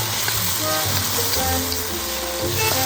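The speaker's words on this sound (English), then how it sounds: "Once the oil is hot, add the minced garlic and then the marinated beef in a single layer." Marinated beef and minced garlic fry in hot oil in a pan, giving a steady, close sizzle with small crackles and pops throughout, and no voices.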